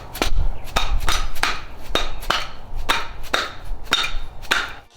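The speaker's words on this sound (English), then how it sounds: "we need to hammer that back on" Hammer blows driving a rubber dust boot back onto the front suspension of a 2021 Ford Bronco, about ten sharp metallic strikes at a steady, brisk rhythm, close and loud over a low background hum.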